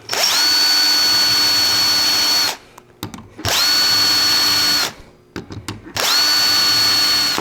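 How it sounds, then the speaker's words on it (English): A power drill whines loudly in three long bursts, drilling holes full depth into wood for table hinges, with short pauses and handling clatter between runs. "now I can come back and drill the hole full depth"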